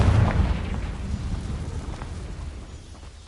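A Confringo fire curse explosion in the Hogwarts Legacy video game: a loud, close boom at the start whose rumble trails off over the following seconds.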